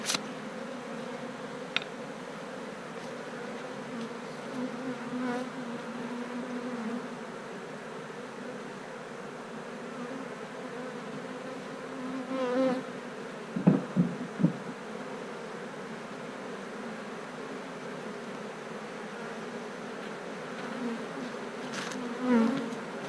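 Honey bees hum continuously around an open, stacked hive during a comb honey harvest. The droning buzz is close and steady, with a few louder passes and faint handling knocks, and there is no talk.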